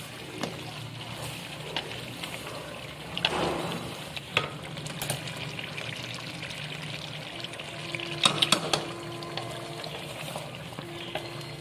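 Black pepper mutton karahi with kasuri methi and garam masala is sautéed in a pan: a soft, steady sizzle with occasional scraping stirs and clinks.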